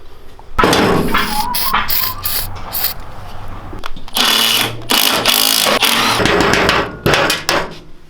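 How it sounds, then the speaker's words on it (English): Metal clanks and bangs in irregular bursts of hammering on a mini bike's engine clutch, loud and close, with short pauses between flurries of blows. "we're going to keep hammering on it and try to get this clutch off"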